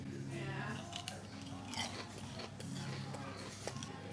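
A crunchy pub onion ring is bitten into and chewed up close, crisp crackling bites over soft clinks of cutlery and plates, with some background noise.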